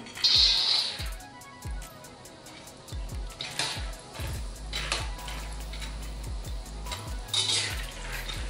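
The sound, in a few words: peanuts frying in hot oil in a wok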